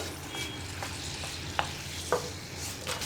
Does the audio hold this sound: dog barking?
no